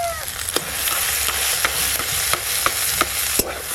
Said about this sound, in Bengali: পাঁপড় ভাজার মতো ভালো করে ভাজছে।